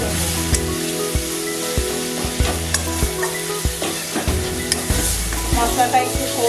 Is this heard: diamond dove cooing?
no